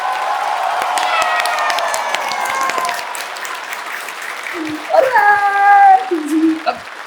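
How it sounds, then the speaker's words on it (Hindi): Loud audience applause on a quiz-show set, spoofing a crorepati game show, as a contestant wins five lakh rupees: a steady wash of clapping, with a tonal voice or music line rising over it near the end. "तालियां भाई, तालियां इनके लिए"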